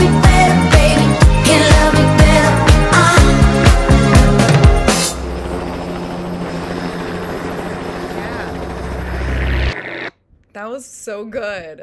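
Helicopter rotor and engine noise from a music video, mixed under loud pop music with singing, the music then dropping out near the end.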